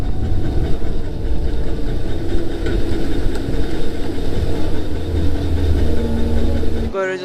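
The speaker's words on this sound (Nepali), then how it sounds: "पुरै डोजरले काम गरिरहेछ त" A bulldozer works on a rough mountain road beside the Tambot river, its heavy engine giving a steady low rumble and drone throughout, with a brief sharper noise at the very end.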